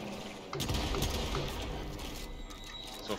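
Rapid gunfire from a shooter video game, a dense burst of shots starting abruptly after a brief quiet lead-in and continuing loud and busy with overlapping reports and clatter.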